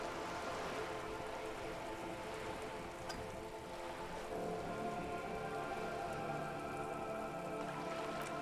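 Rain falls steadily in the Disco Elysium video game, a dense hiss of drops pattering on surfaces with a few louder splashes, continuous and unbroken, with no voices.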